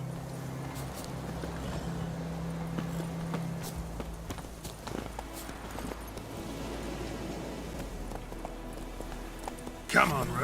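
Hooves of Roach, the horse in The Witcher 3 video game, clip-clop in a steady walking rhythm, fairly quiet and close, under game ambience and occasional speech, ending in a brief louder burst.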